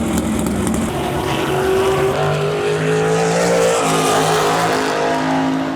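Midget race cars with 4-cylinder engines racing at Lucas Oil Raceway Park, several loud buzzing engines overlapping and shifting pitch as they pass, with a dense roar throughout.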